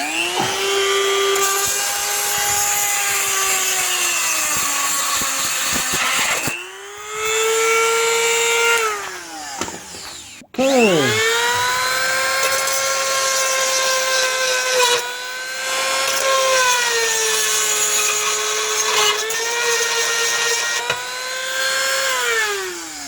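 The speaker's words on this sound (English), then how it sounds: "we're gonna drill out that little hole" A high-speed rotary tool whines loudly while drilling out a small hole for a tow hitch on a 2012 Honda Accord, its pitch sagging and rising under load, with two brief stops before it spins up again.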